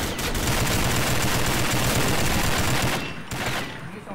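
Rapid, loud gunfire bursts from a first-person shooter game fill the space almost continuously, then break off into a brief pause before more shooting resumes.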